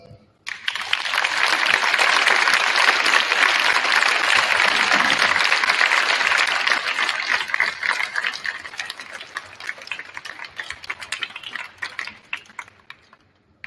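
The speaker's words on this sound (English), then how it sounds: "Please give any family members a round of applause." A Veterans Day program audience applauds family members of veterans, dense broadband clapping that starts abruptly, holds strong for several seconds, then thins into scattered claps as it fades.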